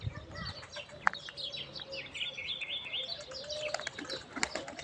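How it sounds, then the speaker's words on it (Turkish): Birds chirp and tweet in quick, bright bursts from within tall grass, scattered calls overlapping at moderate distance over faint outdoor background. "Kuşları göremiyorum otların arasında bazen."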